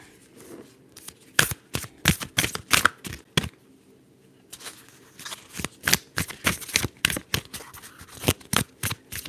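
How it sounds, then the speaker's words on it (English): Cards are shuffled in a long series of crisp, snappy riffles, close up, with a brief pause midway before the rapid shuffling resumes. "Let's shuffle."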